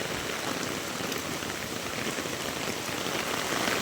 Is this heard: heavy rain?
yes